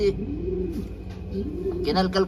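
A returning pigeon of uncertain breed coos close by in a few rolling, throaty phrases, loud and clear against a quiet background.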